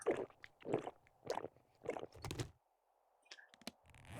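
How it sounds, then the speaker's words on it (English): Wet gulping and swallowing sounds of drinking water in 7 Days to Die, about five rhythmic close gulps followed by a pause and a couple of softer swallows. "And then drink our other water."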